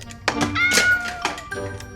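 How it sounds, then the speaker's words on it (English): A cat meow sound effect, a short voiced mew that rises and falls, heard at close range and fairly loud over about two seconds. "I also don't own no cats. That was just a sound effect."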